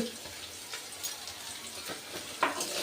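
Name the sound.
dried fish frying with onion and garlic in oil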